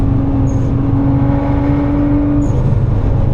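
Nissan R35 GT-R driving a lap on the Nürburgring, a loud, steady in-car engine drone with a low rumble and a held tone, plus brief faint whistles.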